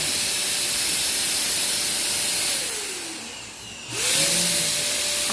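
An aerosol spray can hissing as a man sprays it, a steady broadband spray that fades slightly and cuts off, then resumes loud for a final burst.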